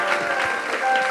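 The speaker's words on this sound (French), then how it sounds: "Je vous prie d'applaudir Nadia Richard, s'il vous plaît" Audience clapping for guest Nadia Richard at an evening show, a brief, loud burst of close, dense applause with a faint murmur underneath.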